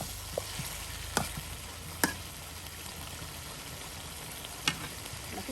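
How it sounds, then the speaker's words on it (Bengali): Country chicken sautés with spices in a karahi, a steady low sizzle punctuated by a few sharp clinks of a spoon stirring against the pan. "বাহ, মশলার সাথে একদম কষানো মজানো"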